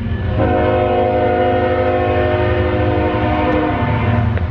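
A train rumbles past nearby, loud and steady, its horn sounding a long sustained chord over the heavy low roar of the cars.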